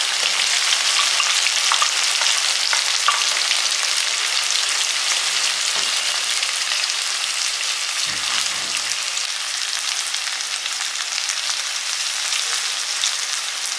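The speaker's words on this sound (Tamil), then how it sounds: "வெள்ளைப்பூடு வந்து கலர் சேஞ்ச் ஆகிற வரைக்கும் நல்லா வதக்கணும்" Crushed garlic sautés in hot oil for a kuzhambu, making a loud, steady, dense sizzle that crackles continuously with a few brief stirring dips.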